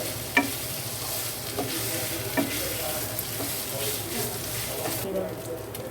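Masala being stirred and fried in a pan while cooking egg chicken bharta: a steady close sizzle with occasional scrapes and light knocks of the spatula, continuous throughout.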